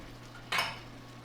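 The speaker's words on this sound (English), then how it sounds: "Now I'm going to just put the lid on this" Lid set down onto a pan of frying banana plant stems, a single brief metallic clack with a short ringing tail over a low steady hum, faint overall.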